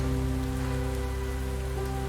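Steady rain pours over a city street, a dense continuous patter with a low droning hum running beneath it throughout.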